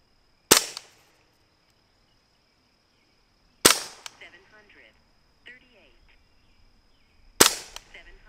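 A Hatsan Invader semi-automatic air rifle fires three sharp, close shots a few seconds apart, each a crisp crack with a brief metallic ring and a faint clatter of the action after it, over a quiet background.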